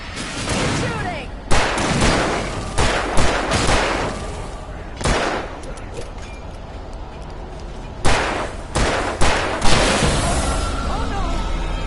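Heavy gunfire erupts in Alan Wake Remastered in loud, clustered bursts of shots separated by short lulls, with shouting voices nearby.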